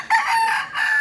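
Hen crowing and clucking close by, a loud, brief, harsh rising call lasting about a second.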